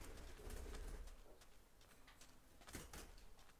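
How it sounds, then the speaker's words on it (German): A pet bird coos softly indoors, a few low murmuring calls over faint room noise. "Huch, mein Vogel ist aktiv heute."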